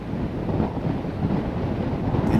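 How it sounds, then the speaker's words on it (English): Steady, rumbling wind buffets the microphone on a golf course throughout, a constant low roar with no voices. "It's so windy."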